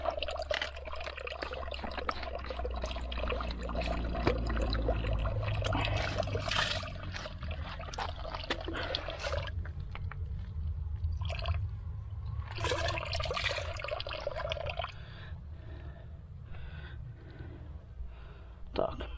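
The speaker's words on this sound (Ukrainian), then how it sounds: "Ось Це Слабенький потічок біжить, зараз водички наберемо." A weak spring stream trickles slowly in the Zhytomyr region of Ukraine during a heat spell while water is collected from it, a soft, close pouring and dribbling heard under people talking, with sporadic splashes and handling noises.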